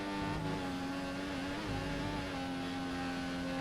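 An F1 race car in the F1 2014 video game screams at high revs along a straight, a sustained, loud, steady whine with a slight dip in pitch midway, nothing else over it.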